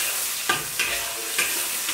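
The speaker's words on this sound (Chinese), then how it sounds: "给它炒出红油。" Doubanjiang (chili bean paste) fries in oil in a wok, giving a continuous crackling sizzle broken by several sharp scraping stirs of the spatula, close and clear, with no talking.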